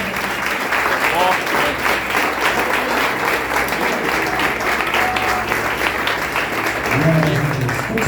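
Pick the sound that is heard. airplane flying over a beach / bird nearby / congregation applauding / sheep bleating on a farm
congregation applauding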